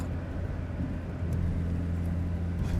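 A VW Golf I GTI cruises along a country road, its engine a steady low drone with constant road and wind noise and no talking.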